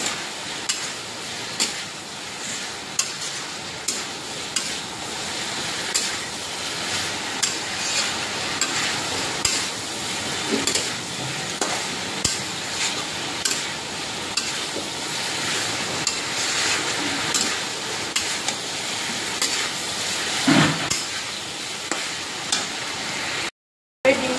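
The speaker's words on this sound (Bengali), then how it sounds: "কষানো মোটামুটি হয়ে গেছে" Curry with ground green chillies cooks in a pan, a steady sizzle and fry under regular scraping strokes of a spoon against the metal, repeated every second or so, close and fairly loud.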